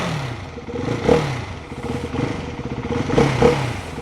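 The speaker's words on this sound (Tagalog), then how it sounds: "Parang malakas pa rin yung tunog niya para sa stock exhaust" A Ducati Hypermotard 698 Mono single-cylinder engine with stock exhaust idles and blips with a deep, throbbing note, swelling and easing a few times, loud and close.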